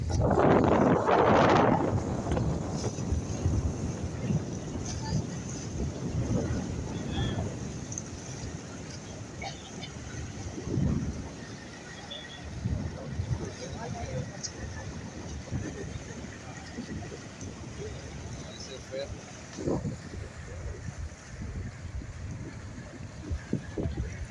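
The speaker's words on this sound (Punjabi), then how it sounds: "ਤੇ ਹਵਾ ਬਹੁਤ ਜ਼ਿਆਦੀ ਵਗ ਰਹੀ ਹੈ ਜੀ" Strong wind buffeting a ship at sea off Europe, a steady rumbling gust noise that is heaviest at the start and then continues lower, with someone speaking briefly over it.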